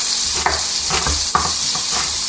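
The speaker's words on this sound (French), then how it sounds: "Je vais y mettre donc un demi-oignon ciselé." Half a chopped onion sizzles in butter in a frying pan, giving a loud, steady hiss with periodic stirring scrapes close by.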